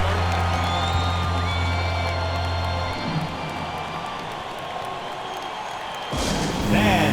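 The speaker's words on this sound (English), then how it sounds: "That's a big round of applause." A crowd applauds and cheers steadily in a large arena in the NBA 2K24 video game, moderately loud, with a commentator's voice over it and a swell of noise near the end.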